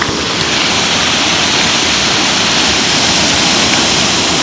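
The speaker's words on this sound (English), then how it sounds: "I came across these waterfalls a few years ago" Roaring torrent of water pouring over a dam spillway at a waterfall in Maryland, Wisconsin, heard from very close as a loud, steady, dense rush with no break throughout.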